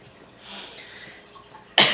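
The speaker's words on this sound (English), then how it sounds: "Sorry if I'm coughing, by the way." A single sharp cough bursts out near the end after a few quiet seconds of faint breathing, close and loud.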